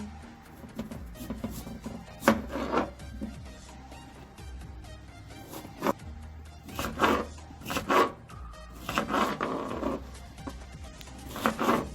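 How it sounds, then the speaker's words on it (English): A knife chops herbs for a Middle Eastern tabbouleh salad, giving irregular clusters of sharp, close chopping strokes separated by quieter gaps. "Chop over this way to get it a little bit finer"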